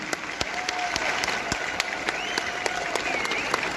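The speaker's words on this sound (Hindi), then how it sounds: "एक बार जोरदार तालियां बबीता जी के लिए" An audience claps loudly for Babita in dense, continuous applause, with some sharper individual claps standing out and faint voices underneath.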